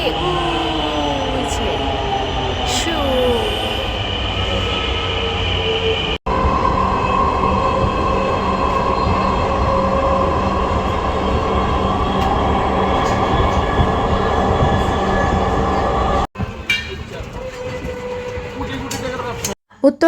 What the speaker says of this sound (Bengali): মেট্রোতে উঠছো আগে বেশি দেরি করতে হলো না মেট্রো চলে এসেছি